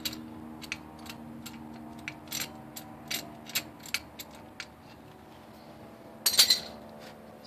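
A C-clamp bolt being turned against a brake caliper during a GM parking brake job, giving spaced metallic clicks and ratcheting ticks up close, then a louder clink near the end, with no speech.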